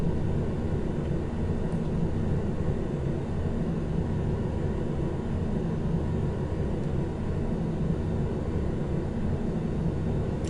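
An airplane engine drones steadily in Flight Simulator X, a constant low rumbling hum with no change in level throughout and no talk.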